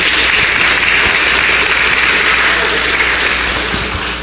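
Sustained applause from a large convention audience at the National Reparations Convention in Washington, DC, a dense, steady wash of clapping that holds at full strength throughout before easing slightly at the end.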